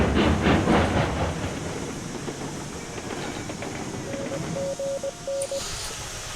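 A train rolls along the rails in the Railroads Online game, a steady rumbling clatter with quieter wheel noise, plus a few short evenly spaced beeps near the end, no talk.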